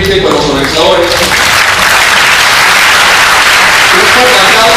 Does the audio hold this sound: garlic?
no